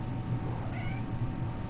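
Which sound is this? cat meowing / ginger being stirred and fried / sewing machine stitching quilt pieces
cat meowing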